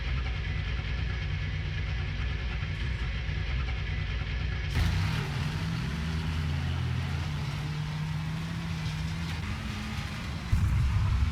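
In World of Tanks Frontline, an EBR FL 10 wheeled tank's engine hums low and steady, then surges into a louder, higher revving roar with shifting pitch as it speeds along, alone and close.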